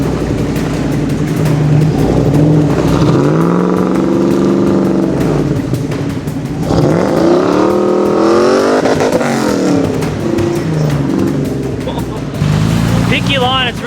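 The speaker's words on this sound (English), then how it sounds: "We're going to drive up to the next obstacle" A Toyota 4Runner off-road 4x4 with an LS engine drives up a slippery Tasmanian track toward an obstacle, its loud, close engine droning and rising and falling in pitch as it revs through gears, with voices talking over it.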